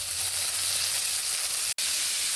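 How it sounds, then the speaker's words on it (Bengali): Green beans fry in an uncovered pan while being stirred, a steady bright sizzle and hiss throughout, broken by one sharp click near the end. "ঢাকা খুলে আর একটুখানি নেড়ে ভেজে নিচ্ছি বিনসগুলো"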